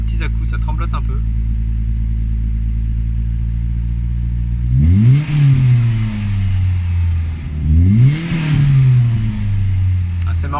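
A Renault Megane RS engine with a cold exhaust and an idle fault holds a loud, steady idle, then twice swings up and back down in short wavering rises.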